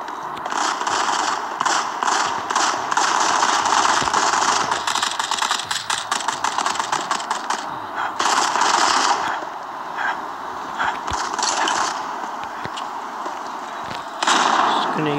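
Gunfire in the mobile shooter Modern Combat 5: Blackout, with rapid bursts of automatic shots and sharp single reports repeating in clusters over several seconds, loud and close, set against continuous game background noise.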